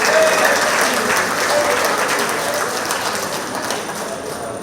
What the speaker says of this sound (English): So we need a louder force of applause.